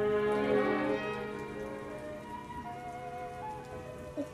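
Rain falling as a radio play sound effect, a soft continuous patter that is strongest at the start and then settles. Faint sustained musical tones drift underneath, and no one speaks.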